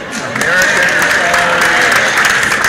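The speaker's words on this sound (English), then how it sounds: "If you're happy you at COP, please clap your hand" An audience at a COP27 climate event claps along in a steady, dense wash while a voice sings or chants over the top.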